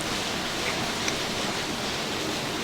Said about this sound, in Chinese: 下这么大雨，谁要跑？